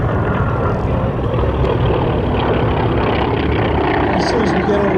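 WWII-era T-6 trainer aircraft at an airshow drone loudly and continuously with propeller engines, a dense, rumbling roar that holds steady throughout while a voice talks underneath.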